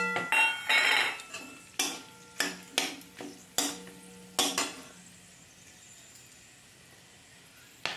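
Cardamom, cloves, peppercorns, cinnamon and two bay leaves sizzle in hot oil for tempering, with sharp metal spoon clinks and stirring strokes in an irregular rhythm, then a quiet steady sizzle alone.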